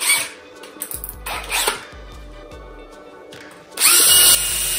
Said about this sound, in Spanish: Para ello, utilizaremos un mil hojas de rodillo y un taladro.